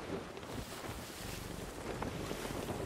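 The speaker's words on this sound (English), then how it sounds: "Oh, it's just the wind." Wind blowing at sea aboard a sailing ship in Sea of Thieves, a steady broadband rush with gusting buffets and water wash, fairly quiet and continuous with no talking.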